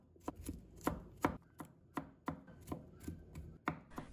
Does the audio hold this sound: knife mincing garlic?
yes